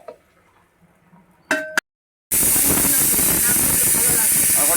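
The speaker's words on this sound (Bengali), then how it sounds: "এবার আমি কুকারে দিয়ে সিটি মেরে নেব" After some quiet kitchen noises and a brief tone, a pressure cooker holding goat tripe suddenly bursts into a loud, sustained hiss of escaping steam that continues steadily to the end.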